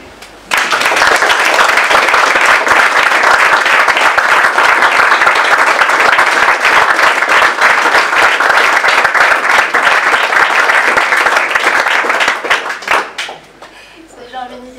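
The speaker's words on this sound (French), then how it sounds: "j'aimerais que vous applaudissiez" Loud, sustained applause from an audience honouring a musician, thick massed clapping that holds steady for about twelve seconds before thinning out and fading away.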